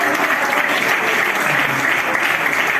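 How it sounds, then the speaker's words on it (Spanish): A church congregation applauds the Lord after a prayer, dense steady clapping filling the room for the whole stretch without a break. "y aplauda al Señor"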